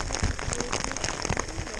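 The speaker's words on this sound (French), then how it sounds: "Ça fait au moins 10 minutes que ça grêle." Hail pelts the snowy summit of Mont Buet at about 3,090 metres in the Haut Giffre, a steady dense patter of icy pellets striking ground and gear close by, continuous without a break.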